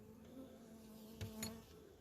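Honey bees confined in a package bee box give off a faint, steady buzzing drone with a couple of brief louder flutters, heard alone at close range.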